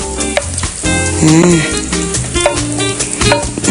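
Hot oil left from frying tempeh sizzles and crackles steadily as spices sauté, with light stirring sounds and occasional faint pops, close to the pan.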